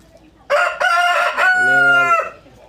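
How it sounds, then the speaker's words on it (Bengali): A rooster crows once on a poultry farm in Ishwarganj, Mymensingh, a loud, close call lasting about two seconds with a rising start and a long held middle, with no voices over it. "মুরগি"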